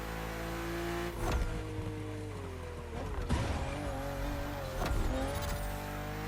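BMW M2 and M4 cars racing on a narrow road full of sharp bends in The Crew: a steady loud engine drone with gear-shift pitch drops and revving surges, plus brief tire squeals through the corners.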